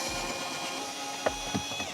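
Ratcheting tool clicks while removing the bolts holding the head unit in a Toyota RAV4 dashboard, a few quick mechanical clicks over a steady background hum.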